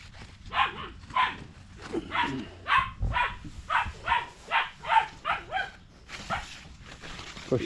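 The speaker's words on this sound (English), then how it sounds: "The dog's going to be up here playing." Near, outdoors in a fig orchard in Southern Illinois, a dog barks roughly a dozen times in a quick, fairly even rhythm, loud and clear with no talking over it.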